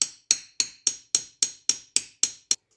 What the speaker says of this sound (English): I'm just going to tap these on really lightly and just make sure that they are completely straight